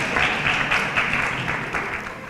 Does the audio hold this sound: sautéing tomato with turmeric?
no